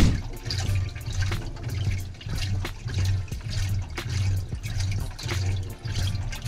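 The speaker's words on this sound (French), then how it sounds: "il va y avoir un truc qui va un petit peu remuer comme ça, qui va faire remuer l'eau à l'intérieur de la machine" A Japanese washing machine agitating water inside its drum, a steady rhythmic churning and sloshing that pulses about twice per second, close and continuous with no talking.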